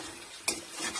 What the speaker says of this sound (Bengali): এবার ভালো করে কষিয়ে নেবে এটাকে মশলা মাখিয়ে।